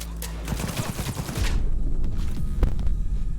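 Rifle fire in the Cyberpunk 2077 video game: a rapid burst of loud automatic shots, followed by heavier, booming combat noise and a few more sharp cracks, with faint speech underneath.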